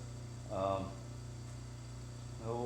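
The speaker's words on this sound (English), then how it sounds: "I think it's a Thomas vacuum pump that I got from Joe Gorelski over at Veneer Supplies" A Thomas vacuum pump, used for veneer work and bent lamination, runs as a steady, faint, low electrical hum throughout, with brief bursts of speech over it.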